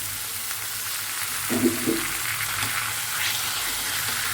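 Chopped tomato goes into a pan of frying capsicum, and a steady sizzle and hiss continues, with a brief louder burst of splattering near the middle.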